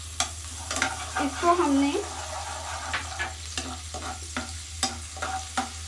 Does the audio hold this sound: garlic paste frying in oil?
yes